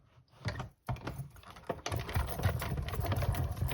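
Stampin' Up Dotted Circles embossing folder cranked through a hand-wound embossing machine, a close, quiet run of ratcheting and grinding clicks that grows denser and steadier toward the end.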